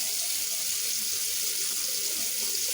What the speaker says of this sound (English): This is why I'm running her under cold water too.